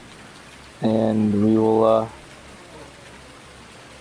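Rain falls steadily in Farming Simulator 19 as an even, hissing wash of noise. Someone speaks briefly over it.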